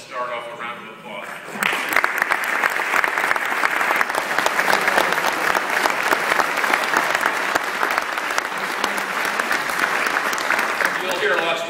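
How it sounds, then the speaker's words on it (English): A crowd breaks into loud, sustained applause honouring veterans at an evening campus ministry gathering, following a brief voice, the dense clapping continuing steadily for about ten seconds. "let's just start off a round of applause"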